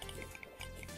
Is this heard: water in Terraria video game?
yes